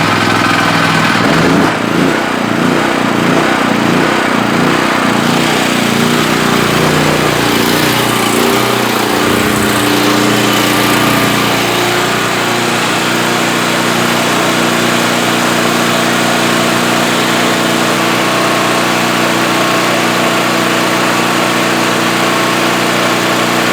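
A repaired portable generator engine starts up, sputtering and surging briefly before settling into a loud, steady running drone that continues for the whole stretch.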